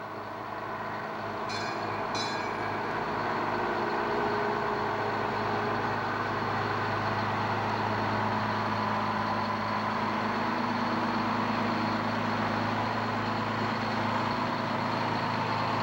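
Brand new E1 fire engine of a volunteer fire department rolling past in a 1988 anniversary parade in South Windsor, Connecticut, a steady heavy engine rumble and road roar held at a constant loud level throughout, with a brief high whine early on.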